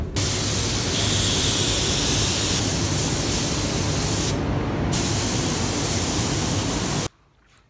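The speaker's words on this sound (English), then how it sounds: "Gonna sand it now, put primer and paint it." Primer is spray painted onto a car's rear bumper being prepared for TCR Europe racing, a loud continuous hiss broken by one short pause, then cutting off abruptly near the end.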